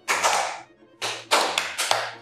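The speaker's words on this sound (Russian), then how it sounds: "Хлопаем." Children clap their hands in rhythm during a speech-rhythm exercise, four broadband bursts in a short-pause-long pattern, close and fairly loud with no talking.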